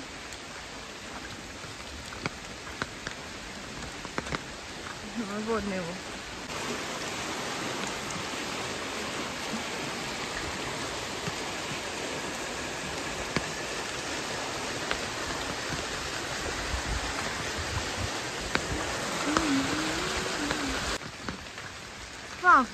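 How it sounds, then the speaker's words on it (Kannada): Heavy monsoon rain in a plantation in Dakshina Kannada, India, pours in a steady, dense hiss mixed with a rushing, full stream, continuous throughout, with a person speaking briefly. "ನೋಡಿ ಎಷ್ಟು ಮಳೆ ಬಂದಿದೆ, ತೋಡು ಫುಲ್ ಹರಿತಾ ಇದೆ"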